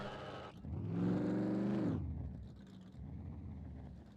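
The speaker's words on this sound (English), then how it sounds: "It definitely sounds like the baffle's gone or something, doesn't it? The engine." Rough, raspy car engine with a broken baffle in the survival game SCUM revs up loudly for about a second and a half, then drops back to a steady idling drone.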